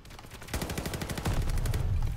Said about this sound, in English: Getting shot in the back.